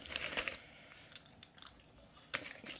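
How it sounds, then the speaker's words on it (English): A package being cut open while unboxing a pH test meter, with quiet, close snips and crinkles in short bursts separated by brief pauses. "It just arrived, so I'll just cut it open."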